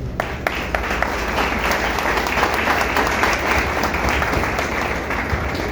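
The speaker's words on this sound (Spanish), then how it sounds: "le damos un fuerte aplauso al Señor" A congregation claps together in sustained, even applause that fills the room for several seconds.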